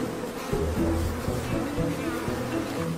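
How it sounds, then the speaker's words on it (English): A swarm of angry bees buzzes loudly and continuously near a wild dog in the African bush, a dense droning hum with overlapping wingbeats pulsing throughout. "A swarm of angry bees isn't the best lullaby for a tired wild dog."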